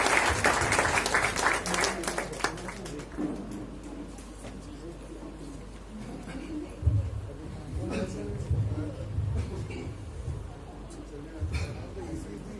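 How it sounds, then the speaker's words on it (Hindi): A crowd welcomes an elderly speaker at a Vistar Foundation program with a burst of clapping that quickly fades, followed by quieter room ambience with murmuring and faint bird sounds. "जोरदार तालियों से इनका स्वागत कीजिए"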